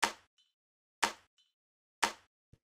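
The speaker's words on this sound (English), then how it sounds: "the last little percussion thing I will show you is the clap/snare" Three layered electronic clap and snare hits, a snare plus two clap samples stacked, play at an even one-per-second pulse, each a sharp bright burst that decays quickly, followed by a faint tonal tick.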